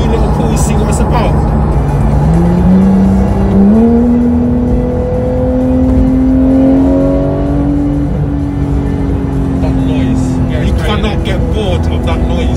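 Porsche 911 GT3 naturally aspirated engine revving hard on the move, pitch climbing through the gears with a loud, sustained wail; people talk over it inside the cabin.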